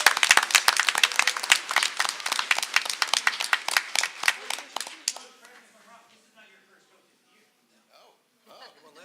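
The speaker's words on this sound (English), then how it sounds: "Round of applause." An audience at a Board of Education meeting gives a round of applause for the Coach of the Year: dense, lively clapping for about five seconds that trails off into scattered claps and quiet.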